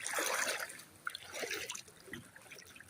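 Shallow river water trickles and burbles softly, with small splashes and drips close by and no one speaking.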